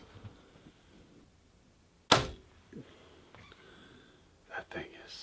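Single release of a Ventum 33 compound bow firing an arrow, a sharp, loud snap with a quick thud, set amid quiet surroundings with faint murmuring voices nearby.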